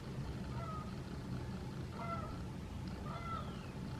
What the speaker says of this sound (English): Is that a goose?